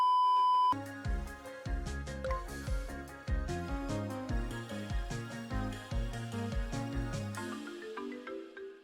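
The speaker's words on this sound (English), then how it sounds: "Here goes my phone at this early hour." A phone ringtone in the coding role-playing video game Learn to Code RPG: a single beep, then a bright, bouncy electronic melody of quick repeated notes that plays on at a steady moderate level, with no voices.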